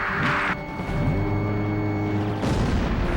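A heavy explosion booms with a deep rumble, then a second blast follows near the end, loud and close in a game battle.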